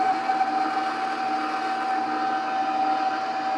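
An electric mixer whirs steadily as it beats chocolate cream cheese pie filling in a bowl, a constant motor hum with a sharp whine running unbroken and fairly loud throughout, with no talk.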